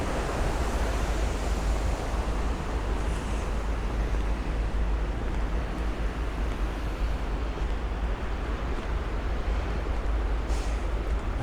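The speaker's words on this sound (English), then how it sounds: "there's actually some more falls right through there. It sort of channels down, gets narrow." Water from a waterfall at Sioux Falls, South Dakota, rushes beneath a footbridge as a steady, loud, broadband roar that stays constant throughout, with no talk.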